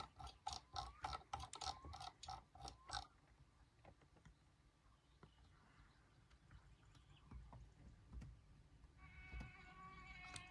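A ratchet clicks rapidly in a quick burst of about a dozen ticks while a bolt is tightened in the My Summer Car game, followed by quieter mechanical knocks.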